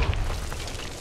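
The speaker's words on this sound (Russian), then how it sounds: "Осторожно, граната!" A grenade goes off in a shooter video game, with a short, muffled low boom at the start that quickly fades into a dull rumble.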